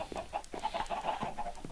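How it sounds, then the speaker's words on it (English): A chicken clucks in Minecraft, a run of short repeated clucks close by and fairly clear, with no talk over them. "There's a chicken in our powerhouse."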